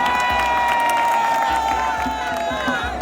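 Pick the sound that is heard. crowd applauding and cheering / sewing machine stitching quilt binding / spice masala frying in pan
crowd applauding and cheering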